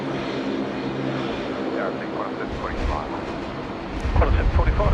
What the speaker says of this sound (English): Off to Denpasar now. Qantas A332.